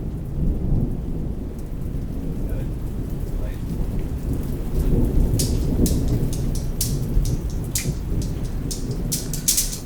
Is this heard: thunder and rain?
yes